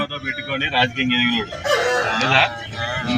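A rooster at a poultry sale crows loudly and close by, a long strained call, with people talking underneath and another bird's call cutting in.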